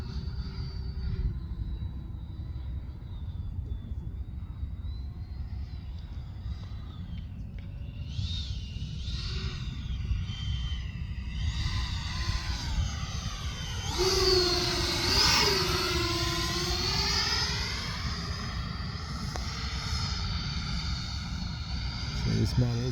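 Depron-built electric ducted fan YF-17 Cobra RC model jet flying slowly with leading edge flaps deployed, a steady whining fan hum that swells and dips in pitch as it passes, heard under wind and talk.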